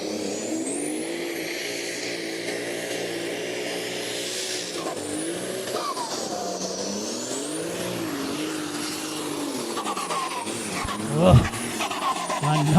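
Super stock class pulling tractor engine roaring through a pull run, sustained loud drone with rising and falling pitch sweeps as revs climb and dip, announcer talking over it, a sharp burst near the end.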